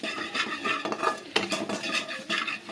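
A spoon stirs asafoetida, coriander powder and garam masala in a cooking pan, giving repeated metallic scrapes and clinks in an uneven rhythm, close and moderately loud, with a faint sizzle underneath.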